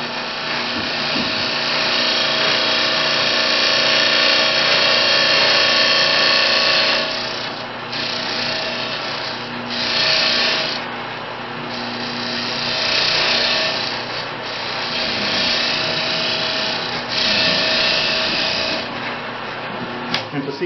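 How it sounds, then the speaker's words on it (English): A 90-degree box scraper cuts straight into wood on a spinning lathe, producing a loud, close, continuous harsh scraping hiss that swells and dips in several waves over about twenty seconds. "I've got a box scraper, which is 90 degrees. I just go straight in."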